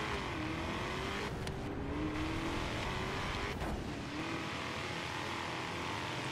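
Ford Mustang GT350R engine in the Forza Horizon 3 racing game, a steady loud drone with rising and falling rev tones, held throughout without talk and with a couple of brief bursts of noise.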